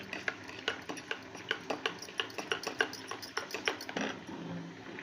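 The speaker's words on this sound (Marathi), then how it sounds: "हे गरम दूध आहे हे मिल्क पावडरमध्ये टाकून घ्यायचं आहे आणि असं मिक्स करायचं आहे" A spoon stirs hot milk into milk powder in a bowl, making quick, faint, rhythmic clinks and scrapes close by, a few taps each second, that slow near the end.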